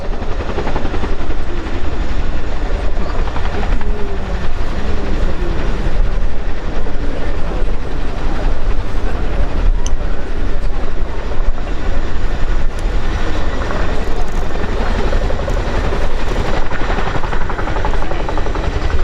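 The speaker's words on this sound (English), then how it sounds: "the pilot touch down rapidly, making control adjustments which hold the Chinook at up to 20-degree nose up" A Chinook helicopter at the RIAT 2019 airshow touching down and lifting off backwards, its twin rotors producing a loud, continuous throbbing roar that stays steady and close throughout.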